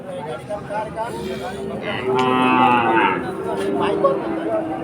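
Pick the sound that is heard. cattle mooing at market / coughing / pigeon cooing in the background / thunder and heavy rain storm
cattle mooing at market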